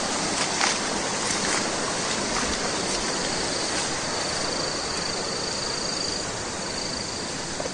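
River water rushes in a constant, loud broadband flow at a rural crab-trapping spot, with no voices.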